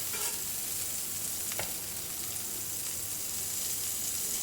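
Burger patties fry in butter on a flat tawa, giving a close, steady sizzle with a faint clink of a utensil partway through.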